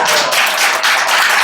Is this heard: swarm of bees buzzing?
no